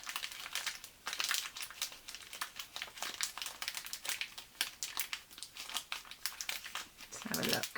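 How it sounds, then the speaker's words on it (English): A plastic bag of sealing wax beads is handled and opened for wax seal crafting, giving close, quiet bursts of crinkling and rustling that come in irregular clusters. "we will cut the corner of our wax bag."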